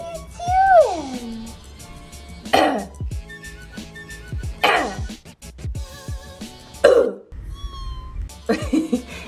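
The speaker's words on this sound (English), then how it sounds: "Every time I cough, he meows at me." A pet cat meows repeatedly, with long drawn-out calls, answering a person's coughs; several meows come in separate bursts over a few seconds, close and fairly loud, with a person's voice and household noise between them.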